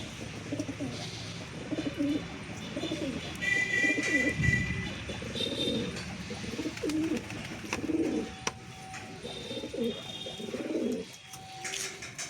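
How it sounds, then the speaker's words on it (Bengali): Several pigeons coo in soft, repeated low bursts close by while they feed, with a few faint chirps and light taps around them. "দেখতে পাচ্ছেন পায়রাগুলো খাচ্ছে"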